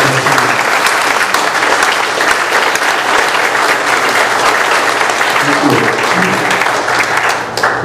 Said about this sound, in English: let's give a warm applause for the answer